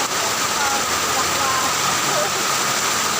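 Heavy rain pours down steadily in a thunderstorm, a dense, loud, continuous hiss with no letup; a voice is faintly present beneath the downpour.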